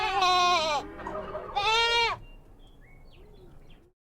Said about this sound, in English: G is for goat with a funny bleat.